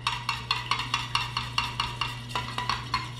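A homemade keratin hair mixture with coconut is stirred in a bowl, a utensil scraping and clinking in a steady, quick rhythm of about a dozen close strokes over low background hum.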